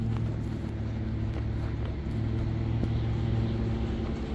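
A 2019 BMW M760i xDrive cruises on the road, its engine a steady low hum under continuous road and wind noise heard from inside the cabin.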